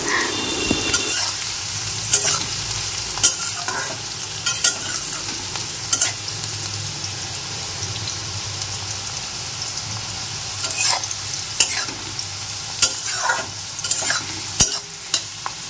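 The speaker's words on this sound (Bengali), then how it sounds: "কিশমিশগুলো অনেকক্ষণ থেকেই ভাজছি" Raisins frying in hot oil in a pan while being stirred, a steady close sizzle broken by repeated scraping stirs, with no talking.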